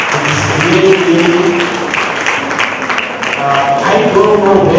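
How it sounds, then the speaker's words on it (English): Applause from a seated audience at an academic workshop on small satellite design, a continuous, fairly loud patter of clapping with some voices mixed in. "Please, I am sure a big applause for you."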